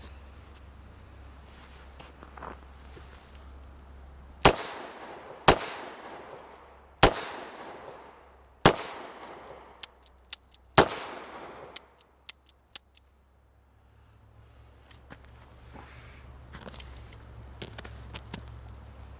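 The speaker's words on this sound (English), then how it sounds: "We're going to run a couple rounds." Five sharp, loud shots from a Ruger LCR 9mm revolver, evenly spaced at roughly one-and-a-half-second intervals, each with a ringing decay, followed by a few fainter clicks and a low rumble outdoors at a target range.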